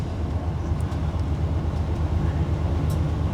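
Steady low rumble of a passenger train in motion, heard from inside the carriage on a long UK rail journey, with continuous dense rolling noise and faint rhythmic clatter throughout.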